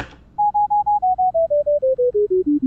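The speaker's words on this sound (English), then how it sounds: "Here's the sound of a ball bouncing." Python-generated simulation of a bouncing ball: a run of about fourteen short, clean electronic beeps that come faster and slightly lower in pitch as they go, clear and alone.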